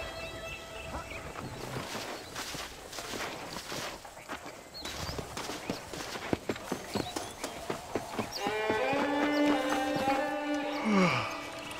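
Horse hooves clip-clopping at a steady walking rhythm in the Western game Red Dead Redemption. Moderately close, with a busier stretch of motion and jingling toward the end.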